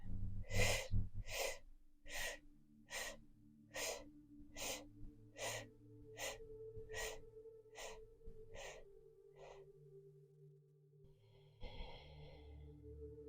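Deep rhythmic breathwork in a final round: about twelve strong, evenly spaced breaths, close and loud, then slowing and fading into a softer exhale near the end.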